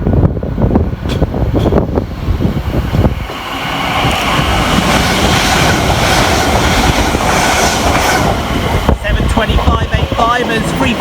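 Elizabeth Line Class 345 electric train 345010 pulling away on the Great Eastern Main Line, loud and close, with a quick run of wheel clatter giving way to a sustained rolling rush and some squeal near the end.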